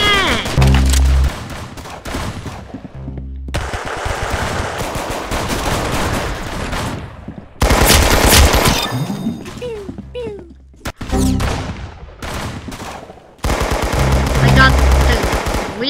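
Rapid automatic gunfire from an odd weapon in the Roblox game Arsenal comes in loud, dense bursts separated by short gaps, with a player's voice heard between volleys.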